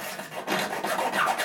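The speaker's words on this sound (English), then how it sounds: "we're just going to use a really fine little file like this just to clean it up" A fine hand file rasping along the edge of an acrylic PC base plate, making close, continuous scraping strokes with a gritty texture that swell and ease slightly in rhythm.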